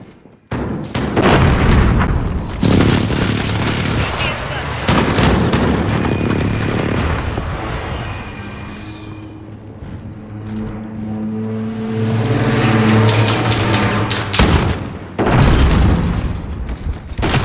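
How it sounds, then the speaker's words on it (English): A precision airstrike in Modern Warfare 2019 online Infected mode brings heavy, loud booming explosions with rumbling tails and a lingering mechanical drone between the blasts, close and powerful. "Be advised, friendly precision airstrike inbound."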